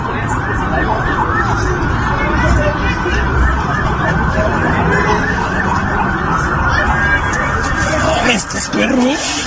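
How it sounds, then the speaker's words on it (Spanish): Ambulance sirens wail continuously during a shootout in Celaya, loud and near with rising and falling tones, while people talk over them in the foreground. "No, son ambulancias"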